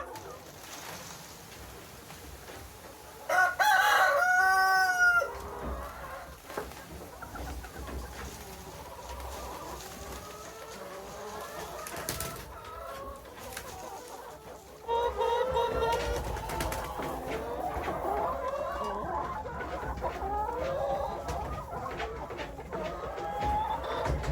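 Chickens in a winter coop during extreme cold cluck and chatter steadily throughout, with a burst of louder squawking early on and a busier flock sound in the second half.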